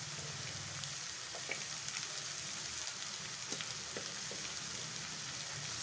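Chopped radish fries in a pan with a steady, soft sizzle and occasional faint crackles, heard alone at low volume.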